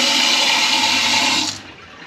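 Water rushes loudly and steadily through household plumbing fed by a house water pump, close by, then cuts off abruptly, leaving a quiet hum.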